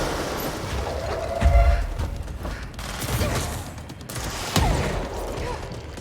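Rockets fired in the video game Control: two heavy, booming blasts about three seconds apart, each rising over a steady backdrop of rattling gunfire and combat noise.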